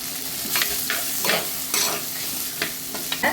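Onions and tomatoes sauté in a pan with a steady soft sizzle, punctuated by repeated scraping stirs of a spoon at irregular intervals, close and moderately loud.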